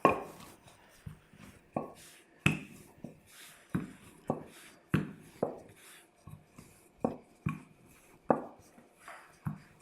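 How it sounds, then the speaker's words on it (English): A rolling pin works pastry dough for a pumpkin pie crust, giving a series of quiet, close wooden thumps and rolls repeating at an uneven, unhurried rhythm with short pauses between strokes. "So try and roll in just one direction."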